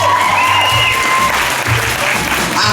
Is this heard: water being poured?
no